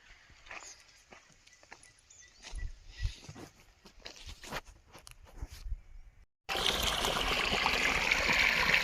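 Scattered thumps and soft splashes give way to a loud, steady rush of water from a 5 HP pump motor gushing continuously into a sugarcane field for the last few seconds.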